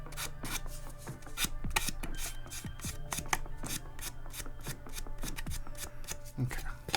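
Sandpaper rasps flash off a plastic part from a Polar Lights 1:1000 USS Defiant model kit in quick, close scratchy strokes, with quiet background hum and no talking.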